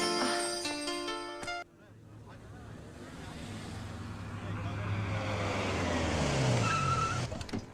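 A car moving with a steady low engine rumble and road noise after a brief burst of music, rising gradually, with a faint tone and speech-like sounds blended in.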